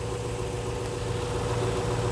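Steady idle from the 4.3 V8 of a 2001 Lexus GS430, a smooth, unchanging low hum heard up close with nothing else on top.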